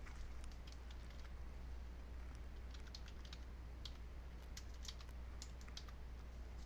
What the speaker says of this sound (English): That was just me typing the wrong thing in.